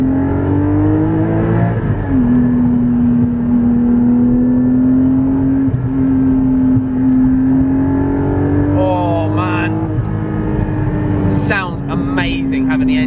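A Porsche Cayman GT4 718 engine pulls hard from inside the cabin, a loud steady drone climbing and shifting pitch through gear changes, with voices talking over it near the end.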